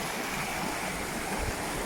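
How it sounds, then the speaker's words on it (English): A waterfall at a mountaintop source gives a steady, dense rushing and hissing of falling water, close and unbroken throughout. "And I am exploring this waterfall"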